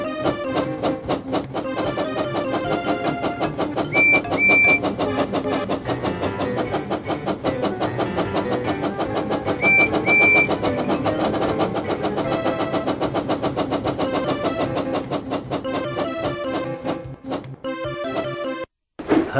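Percy the tank engine races along in a Thomas and Friends video game, a steady engine rumble mixed with game music that drops out briefly near the end.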